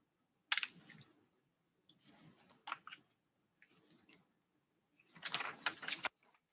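A sheet of paper is folded into four at close range, with several crisp rustles and creases separated by brief pauses and a longer crinkling stretch near the end.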